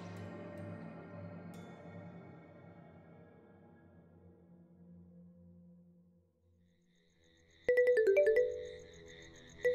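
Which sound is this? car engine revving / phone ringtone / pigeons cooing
phone ringtone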